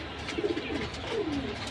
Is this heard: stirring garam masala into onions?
no